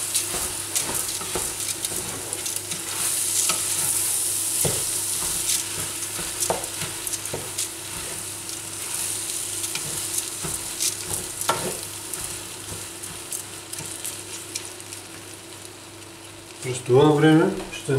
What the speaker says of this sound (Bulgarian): Отново разбъркваме.